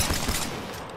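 Video game gunfire cracks in a few quick, close shots at the start, then fades into a dull lingering rumble within a second.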